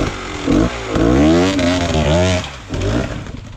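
A dirt motorcycle engine revs hard on a Nif Mountain trail, rising and falling in loud, close bursts with a rough, straining tone over about three and a half seconds.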